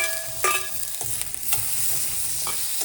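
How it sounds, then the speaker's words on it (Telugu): Tomato goes into onions frying in oil, a steady close sizzle broken by a few sharp clanks and scrapes of a spoon against the pan. "ఆనియన్ వేగిందండి, ఇప్పుడు నేను టొమాటో వేసేసుకుంటున్నా."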